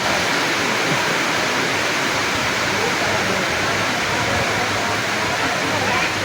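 Steady rain outdoors while walking, a dense, loud, unbroken hiss of falling water filling the whole scene.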